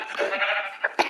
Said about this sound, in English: sheep, sheep, sheep,